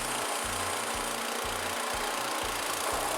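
A smoking snowblower engine runs steadily off choke, a continuous mid-pitched drone with a regular pulsing thump, loud and close, with no talk over it.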